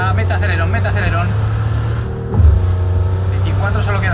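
A car accelerates during a race in Cyberpunk 2077, a steady loud engine drone with a brief surge midway, while a person talks excitedly over it.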